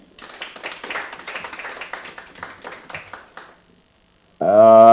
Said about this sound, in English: Now, clap for her once again.